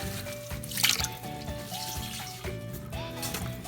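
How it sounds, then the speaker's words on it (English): Water squeezed from a sponge while a toilet tank is emptied for a leaky-tank gasket repair, close wet trickles and drips with gurgling splashes, steady and fairly loud with no talking. "we're gonna use this sponge to remove the water"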